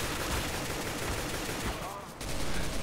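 Counter-Strike: Global Offensive gunfire on the Dust 2 map: dense, rapid shots crackle through a continuous burst, dipping briefly before resuming louder.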